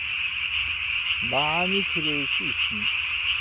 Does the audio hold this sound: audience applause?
no